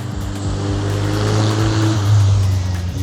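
Cars at a motor event, one passing slowly with a loud sustained engine drone that swells as it draws near, then eases off, close to the listener with no talking.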